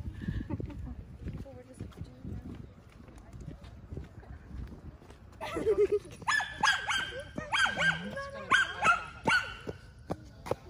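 A dog barks in rapid, high-pitched yaps in a park setting, starting partway through and continuing in a quick irregular series, with footsteps and people talking nearby.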